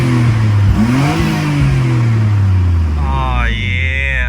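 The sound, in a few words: R34 Skyline GTR Midori titanium exhaust revving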